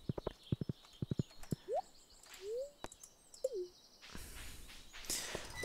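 In the Stardew Valley video game, a horse's hooves clip-clop in short sharp bursts. Rising chirps and whistles are heard between the hoof sounds, and a hissy broadband texture takes over near the end.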